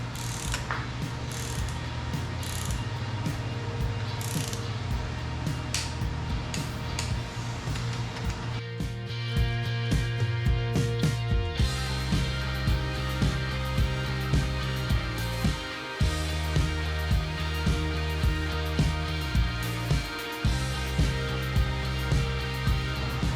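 A torque wrench clicks and ratchets repeatedly as small bolts are tightened on a forged LSA engine being built for a Chevelle, close-up rhythmic mechanical clicking runs with brief pauses between bolts, no talking.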